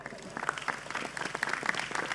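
Applause breaks out at a gathering in the pendopo of an official residence during an Islamic sermon, a dense patter of clapping from the congregation lasting a couple of seconds at moderate level, with a voice faintly mixed in.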